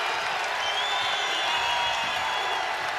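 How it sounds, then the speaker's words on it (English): A packed college basketball arena roars at an Omaha vs South Dakota State men's game, a sustained wash of cheering and applause from the home crowd that holds steady at a distance with a brief whistle-like tone on top. "And this crowd really getting into it now."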